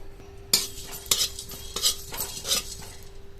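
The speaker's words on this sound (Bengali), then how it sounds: "মশলাটা গরম হয়ে গেছে, হালকা একটু চটচট চটচট করে আওয়াজ হচ্ছে" Whole spices such as coriander, cumin, cloves, cinnamon and cardamom dry-roasting in a dry pan give close, irregular crackles and scrapes, with no talking.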